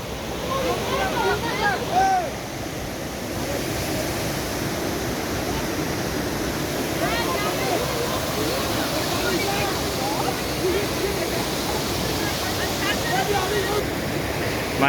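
Steady, dense rush of water from a mountain waterfall at Qoraqiyasoy fills the scene, constant and fairly close, with scattered bird chirps above it.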